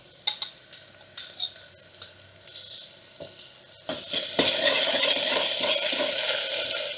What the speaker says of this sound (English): We saute this garlic and ginger paste until it smells really good.